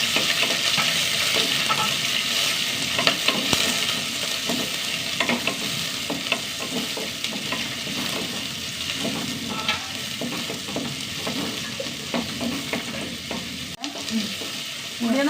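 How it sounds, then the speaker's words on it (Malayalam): Curry leaves, garlic, small shallots and green chilies frying in oil in a pan, a loud dense unbroken sizzle with faint stirring movements underneath throughout. "ഉള്ളിയൊന്ന് മൂത്ത് വരട്ടെ."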